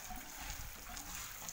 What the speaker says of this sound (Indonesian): Ini air mengalir dari air yang atas, dari atas itu.